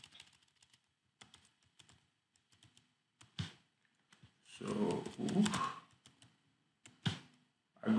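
Typing a password on a computer keyboard: scattered soft key clicks in short bursts, quiet and close, interrupted by a louder rustling, shuffling passage in the middle.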